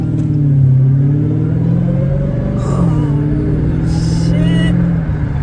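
Car engine revving at a car show, a loud low rumble rising and falling in pitch close by, with people talking over it.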